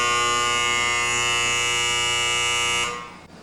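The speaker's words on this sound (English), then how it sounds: "Okay, we've gone into alarm." A loud, steady electronic buzzing alarm from a burner control, triggered by loss of flame signal with no gas, sounds continuously for about three seconds, then cuts off abruptly.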